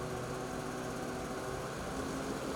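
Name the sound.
Polaris Patriot Boost Indy VR1 snowmobile engine running at low throttle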